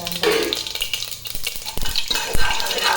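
Cinnamon and cloves tossed into hot oil with popped mustard seeds, giving a brief crackling sizzle with scraping stir strokes and a few louder pops near the pan.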